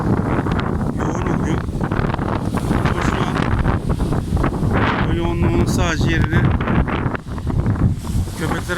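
Strong wind roars and buffets the microphone without pause, loud and close, with muffled rumbling underneath.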